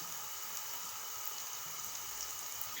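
Sliced onions fry in hot oil in a pan, a faint, even, high fizzing hiss holding steady throughout with no voices.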